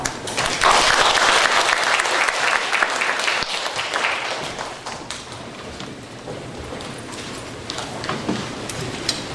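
A lecture audience at a humanities forum breaks into loud applause that gradually thins and fades, a steady dense patter of many hands clapping without speech.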